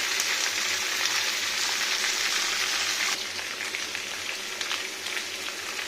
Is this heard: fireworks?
no